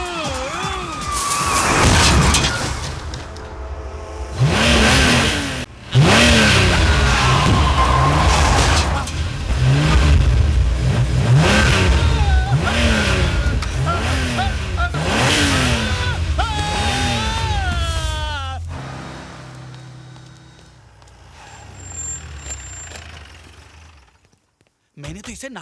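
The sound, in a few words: driverless car engine revving and driving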